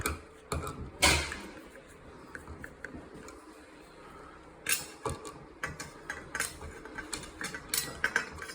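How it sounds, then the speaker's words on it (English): Screws are run in until just snug while a flush-mount LED light fixture is installed, giving faint, close clicking and ratcheting ticks in irregular clusters against a quiet room. "what I do next is I just run these in a little ways till they're just a little bit snug"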